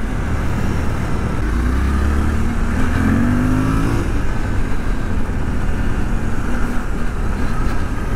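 Suzuki V-Strom 800DE adventure motorcycle engine drones loudly and steadily while riding on a slippery downhill dirt trail, rising briefly in a rev midway, with constant wind rush and no talk.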